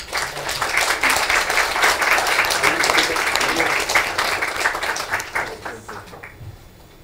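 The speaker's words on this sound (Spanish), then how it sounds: "Un fuerte aplauso, por favor." An audience at a World Water Day conference claps loudly for an engineer presenter. The applause is dense and sustained for about six seconds, then tapers off toward the end.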